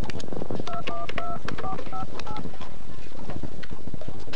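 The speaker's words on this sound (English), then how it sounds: "Imogen picked up the phone and dialed." A telephone is dialed in a stable office in a televised drama, a short run of touch-tone beeps sounding over loud, noisy background clatter.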